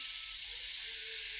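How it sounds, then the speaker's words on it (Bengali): Hilsa fish lightly frying in a pan gives off a steady, quiet sizzle and hiss, continuous and even throughout with no talking. "ইলিশ মাছ ভালো করে ভাজবো না, হালকা ভাজি করে রেখে দেবো"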